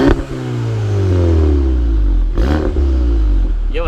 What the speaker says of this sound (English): You think I could hear you rev it a few times?